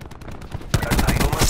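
Automated sentry gun in the video game Battery opening fire, a dense rapid burst of shots that starts abruptly partway through and continues loudly to the end over busy game noise.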